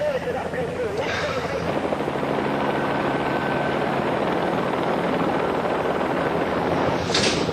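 A police helicopter's steady rotor roar fills the whole stretch overhead, loud and continuous, with faint voices mixed in underneath.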